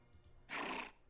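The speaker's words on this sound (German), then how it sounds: "Da ist wieder Manfred mit Ursula, seinem Pferd." A single horse neigh from the Clash of Clans video game bursts out loud and close for about half a second, alone with no talk, over a faint low background.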